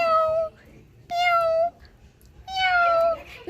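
Three drawn-out, falling meows from a cat in a village home, each about half a second long with short quiet gaps between them, fairly close and clear over a low background hum.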